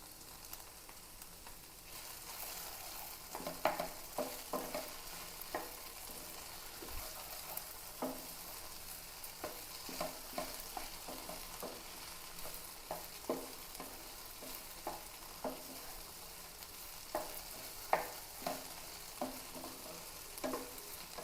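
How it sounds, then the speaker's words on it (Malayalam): Curry leaves drop into okra frying with onion and sizzle in a steady crackle, with frequent stirring scrapes and clicks from the pan throughout, heard close and alone. "ഈ സമയത്ത് നമുക്കൊരൽപ്പം കറിവേപ്പില ഇട്ട് കൊടുക്കാം"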